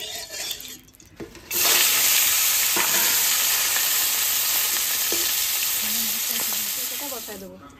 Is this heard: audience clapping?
no